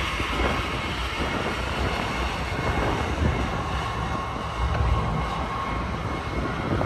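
An ES44C4 locomotive pulling a manifest freight train passes near Verdemont, San Bernardino, with a loud, continuous rumble and rolling wheel noise that swells slightly at moments, with no voices.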